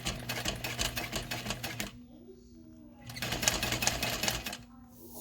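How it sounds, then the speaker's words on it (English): Sewing machine stitching down the finished edge of a Phoebe backpack, running in two loud bursts of rapid rhythmic needle clatter separated by a brief pause with quieter handling sounds. "we're gonna sew back down the other side here"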